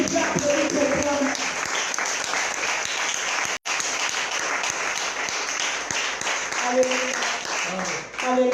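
Sustained applause from a church conference crowd filling the whole stretch, loud and continuous, with faint voices blended beneath the clapping.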